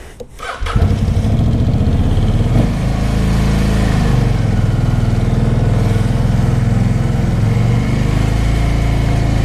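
A Kawasaki Vulcan 750 motorcycle, an older-style bike with the choke on, fires up with a quick rising burst and settles into a loud, steady, throbbing idle up close.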